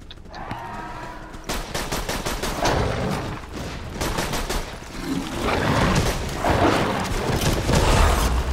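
Explosion and rapid gunfire in the video game Borderlands 2, a dense continuous barrage of automatic shots and blasts, loud and sustained throughout with no talking.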